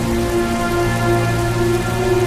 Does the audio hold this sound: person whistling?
no